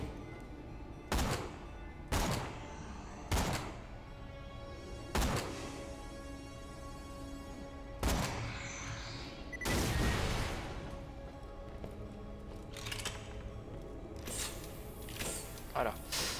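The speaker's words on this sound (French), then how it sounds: "Utilise ce canon pour faire un trou et entrer." Heavy cannon and gun blasts from the video game Borderlands The Pre-Sequel, a series of sharp loud booms spaced a second or two apart, one longer rumbling blast midway, then quicker bursts near the end, over a low game backdrop with talk.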